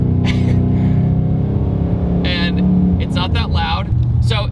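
A 2019 Mustang GT with long tube headers and stock headers mentioned revs hard under throttle, a loud throaty engine roar rising and falling alongside bursts of nearby talk.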